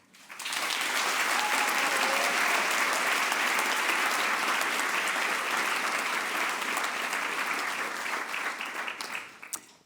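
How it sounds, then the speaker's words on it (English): Sustained audience applause fills an evening speakers' event at the European Forum Alpbach, dense and steady for about nine seconds before tapering off at the end. "I also would like to start with a big applause to all applicants this year"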